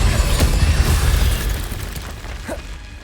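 Incendio fire spell cast in Hogwarts Legacy, a loud booming burst of flame with a rumbling tail that slowly fades over a few seconds, alone with no talk.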